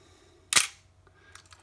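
A Nikon FM2/FE2 film camera, under repair for a stuck shutter, fires its shutter once with a crisp, loud mechanical snap, followed by faint small clicks in a quiet room.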